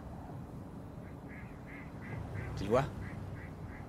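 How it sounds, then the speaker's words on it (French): A common goldeneye duck gives a series of soft, evenly spaced quacks in the distance outdoors, faint under a short spoken question and a nearer bird call. "Un garrot à l'œil d'or."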